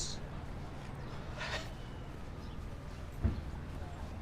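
Hand claps imitating a horse's clip-clopping hooves on an emptied New York City street on New Year's Day morning, a few soft spaced claps under low street ambience with a voice nearby.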